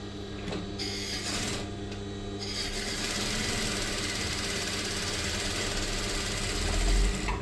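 A sewing machine stitches the folded edge of a pillow cover, giving a loud, continuous rapid mechanical chatter that runs close-up for the whole stretch after a few brief pauses at the start.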